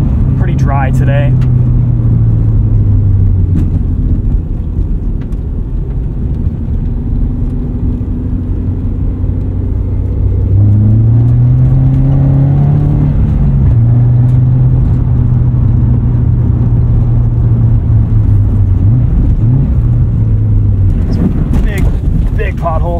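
A Subaru BRZ with a catted UEL header drives on hard-packed dry dirt, its engine droning loudly and steadily inside the cabin with pitch rising and falling, plus road rumble and tyre noise on the loose surface.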